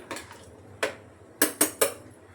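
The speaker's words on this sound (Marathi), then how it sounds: "तर पहिलं झाकण लावून देते" A few sharp metallic clanks as a lid is set onto a metal wok, one soft tap followed by a quick cluster of three knocks.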